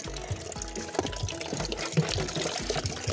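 Water gushing and filling a pail, with a steady broadband rush and low splashing churn throughout, fairly close and continuous with no talk.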